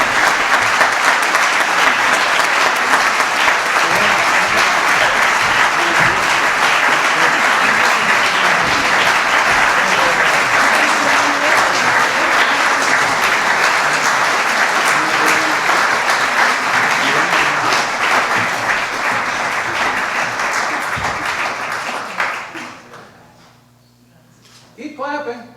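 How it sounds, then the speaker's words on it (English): Sustained, loud audience applause at a small business awards ceremony after a lifetime achievement award, dense clapping filling the room for about twenty-two seconds before tapering off, with a voice returning at the end. "Keep clapping."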